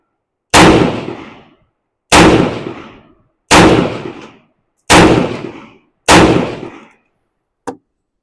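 A Mini-14 rifle fires five loud, sharp shots at steady intervals of about a second and a half, each with a decaying echo, followed by a fainter sixth report. No talking.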